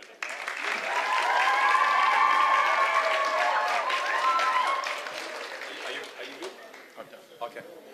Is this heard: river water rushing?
no